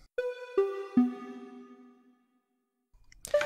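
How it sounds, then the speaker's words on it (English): A dry default wavetable synth, with its wavetable position and level automated, plays three descending notes that each ring and fade before silence, then a brief bright burst at the end. "Without the effects, the synth sounds like this."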